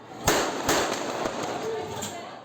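Gunshots ring out during a shootout at a campaign event in the Paraisópolis community of São Paulo, caught on an amateur recording: three or four sharp, loud cracks in a couple of seconds over background voices and noise.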